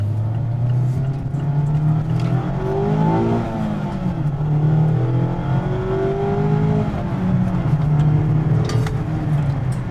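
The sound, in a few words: 2020 Mazda MX-5 Miata RF accelerating through gears, top up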